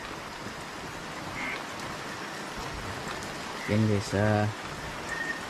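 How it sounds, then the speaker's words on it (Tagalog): Steady rain falls outside a house at night, a broad hiss running throughout, with a river flowing nearby; someone speaks briefly over it and a couple of short quacking-like calls stand out near the end. "ulan kasi sa labas."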